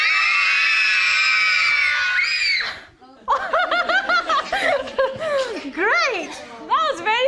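A children's audience at a book festival screams together in one loud sustained burst that stops abruptly, followed by scattered giggles, excited chatter and laughter from the crowd.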